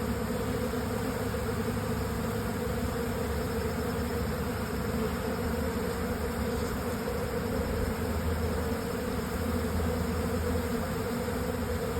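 Robber bees swarm around a dripping hive box, their dense buzzing steady and continuous, close and fairly loud, with no speech.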